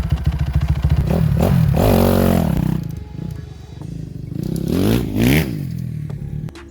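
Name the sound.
Kawasaki KX250F motorcycle engine running to warm up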